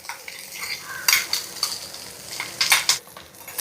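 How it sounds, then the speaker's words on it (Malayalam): Metal spoon stirring a curry in a pan after crushed coconut goes in, making a run of scraping, clinking bursts at an uneven pace, close and moderately loud, with no talking. "ഒന്ന് നന്നായിട്ടൊന്ന് ഇളക്കി കൊടുക്കാം"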